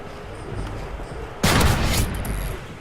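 Gunfire in the shooter game Call of Duty: Ghosts, multiplayer gun-game match on the Bayview map: a loud, sharp burst of shots breaks in partway through, following quieter ambient game noise and a distant low rumble.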